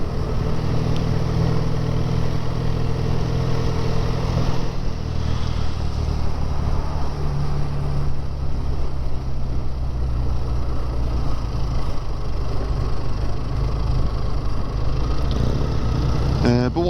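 A BSA 650 A10 motorcycle's engine running with a steady mid-pitched thrum beneath continuous wind rush, lasting throughout at a consistent level.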